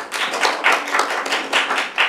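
Dense clapping from an audience at a church prayer meeting, steady and close, with rhythmic bursts of hand claps filling the whole stretch and no voices.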